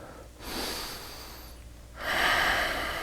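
Heavy, audible breaths during a standing yoga back bend in a scoliosis-focused session: a short breath, a quieter stretch, then a longer, louder airy exhale, close and alone.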